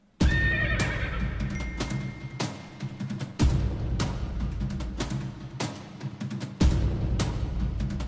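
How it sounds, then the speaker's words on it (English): A horse sound sample: a whinny near the start, followed by sharp, regular hoof strikes with loud bursts roughly every few seconds, close and prominent. "Horse."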